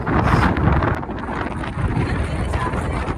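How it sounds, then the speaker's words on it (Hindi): Strong wind buffets the microphone atop Galata Tower in Istanbul, a loud, continuous rumbling roar with gusty swells throughout and no clear speech. "बाहर इतनी ज़्यादा हवा चल रही है"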